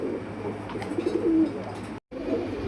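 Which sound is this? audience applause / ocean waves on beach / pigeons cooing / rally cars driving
pigeons cooing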